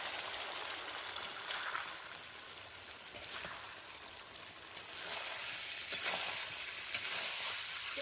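Meat and potato frying in oil in a pan, giving a steady close hiss and crackle with scattered pops that grow slightly louder near the end, with no talking.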